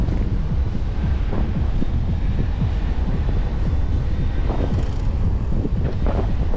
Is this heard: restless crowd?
no